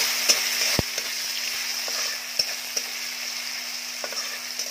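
Tomato, seeded, sautéing in a pan with spices for a Marathi flat-bean sabzi: a steady bright sizzle throughout with a few sharp scraping clicks of a spatula stirring, no voices.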